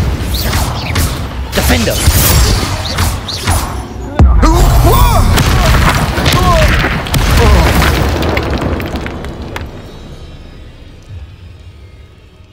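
A Bombarda spell explosion in the video game Hogwarts Legacy: a loud booming blast amid battle noise, with shouted spell incantations over the top, the din tailing off toward the end.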